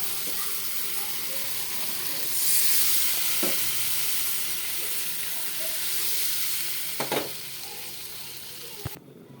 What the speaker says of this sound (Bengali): মাছ আলু টমেটো সুন্দর করে কষানো হয়ে গেছে এখন ঝোল দিয়ে দেব